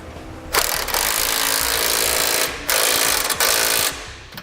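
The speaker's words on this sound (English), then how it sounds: "Next, we'll take a 19mm socket and tighten that bolt up." A 19mm socket on a power tool tightens a bolt on a Roadmaster crossbar-style base plate kit, in loud sustained whirring bursts of about two seconds each with brief pauses between, close up and with no talk.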